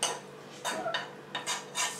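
Chopped onions, carrots and spices being tipped into a slow cooker with a few clattering scrapes and knocks of a utensil against the pot, close and fairly quiet, in bursts over a couple of seconds.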